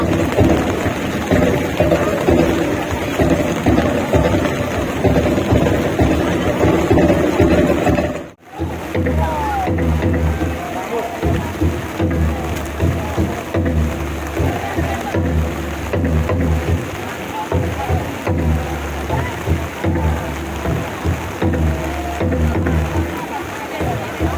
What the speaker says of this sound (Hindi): गाइस, बहुत ही ज़्यादा बारिश हो रही है,